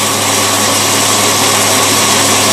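A boat engine fitted with a Rochester two-barrel carburetor running steadily at about 1200 RPM, a constant close, loud drone without a break.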